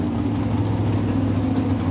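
A 500 cubic inch Dodge drag racing engine fed by two Holley carburetors on racing gasoline idles with a deep, steady, loud rumble while backing into position at an NHRA drag strip.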